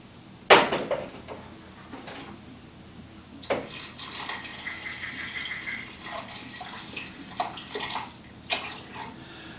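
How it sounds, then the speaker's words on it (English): Water poured into a pot of 11-year-old stored pinto beans, a sudden splash followed by a steady running pour with scattered clinks and splashes, close and fairly loud, with no talking. "I'm gonna add some water to it"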